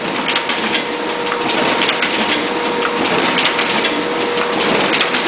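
A Duplo 4000 twin tower collator and booklet maker system jogs, stitches, folds and trims paper booklets in a constant loud mechanical clatter and whir, with faint ticking clicks scattered through it.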